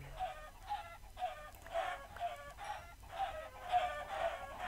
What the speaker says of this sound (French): il y a encore l'attaque des poulets géants